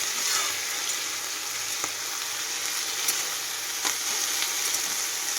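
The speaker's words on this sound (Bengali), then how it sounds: "এদিকে আমি আলু আর পেঁয়াজ কলিটা ভাজবো" Potato pieces and onion stalks fry in oil with a dense, steady crackle, broken by a few sharp clicks of stirring, close up and with no talking.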